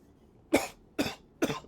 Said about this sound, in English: Sorry, I coughed and didn't hear you.